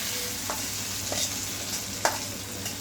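Dried red chillies frying in hot oil for a tempering, a steady soft sizzle with a few brief crackling pops and stirring touches, heard close with no talk.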